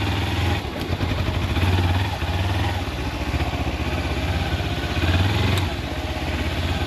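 Kawasaki dirt motorcycle idling outdoors on a muddy trail, a close, steady low engine chug with slight rises in revs.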